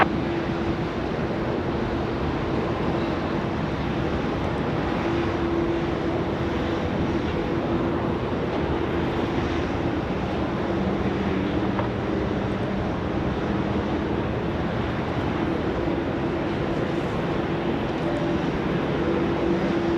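Singapore Airlines jet departing Sydney Airport, a continuous rumbling engine roar with a faint steady tone, constant and fairly loud throughout.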